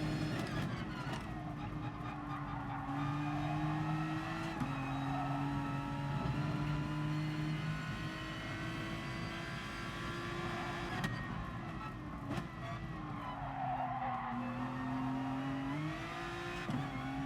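An Aston Martin race car in GT Sport taking a corner, engine note falling and rising through lifts and throttle, with a continuous tire hum, steady and moderately close, no talk.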